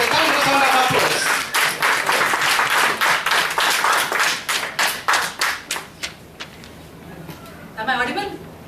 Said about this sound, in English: Let us welcome Toastmaster Rekha with a thunderous round of applause